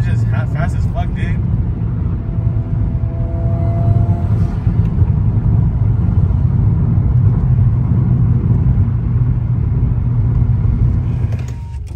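Engine roar of a 2022 Honda Civic Si and a 2015 Subaru WRX during a roll race, heard from inside the car as a loud, steady low rumble that swells slightly mid-run, with voices talking over it.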